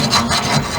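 A woodruff key is worked by hand to clean it up for fitting on an early-1900s vehicle project, giving short repeated rasping, filing strokes at close range with no talk.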